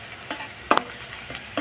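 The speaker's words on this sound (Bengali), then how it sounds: "এখন আমি নাড়াচাড়া করে পেঁয়াজটা আমি একটু ভেজে নিব।" Onion pieces crackle in hot oil in a kadai while a spatula stirs them, giving a soft steady sizzle with several distinct scraping knocks, one louder clatter near the middle.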